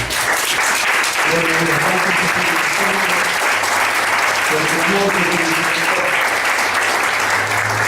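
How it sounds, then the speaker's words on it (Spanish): A church congregation gives sustained loud applause during a Spanish-language service, steady clapping throughout with faint musical tones and voices mixed underneath. "Denle un aplauso"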